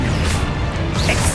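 A loud, broadband crashing impact of the Confringo blasting spell in Hogwarts Legacy, a dense explosive burst filling the whole short moment.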